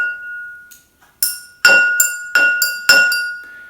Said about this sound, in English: I have a drumstick with me, and it sounds different than the BBQ skewer.